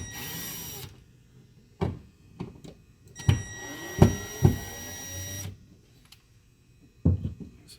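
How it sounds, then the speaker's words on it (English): A power screwdriver backs Phillips screws out of the control panel of a Canadian Spa Jasper sauna, with short whirring bursts separated by clicks and handling knocks, close and without talk. "So the Jasper just has 4 screws here. We're just going to pop these out. These are just normal Phillips."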